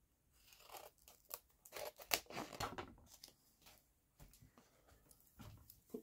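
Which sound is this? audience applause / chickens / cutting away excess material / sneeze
cutting away excess material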